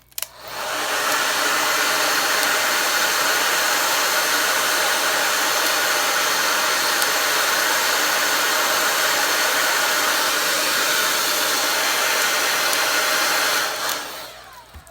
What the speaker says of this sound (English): I like to take my hair dryer and I just turn it on low air and low heat